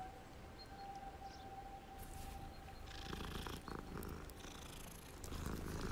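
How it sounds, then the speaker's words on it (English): A small cat purrs in the video game Hogwarts Legacy, a low steady rumble under a faint sustained tone, with soft scattered game effects rising toward the end; no one speaks. "Oh, a little cat."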